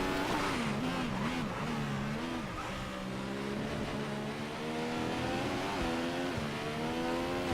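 F1 race car engine from F1 2015 at Bahrain, revving high and climbing through quick upshifts in a steady, loud whine, with no voices.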